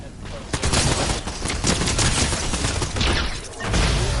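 Near-constant rapid gunfire in a Fortnite match with shotguns in play: dense, loud overlapping blasts and bursts over about four seconds, with excited voices talking underneath.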